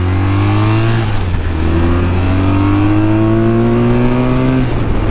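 A BMW R1200RTP police motorcycle accelerates hard up to 80 mph, its loud engine tone climbing steadily through the gears with one brief shift dip, close and continuous.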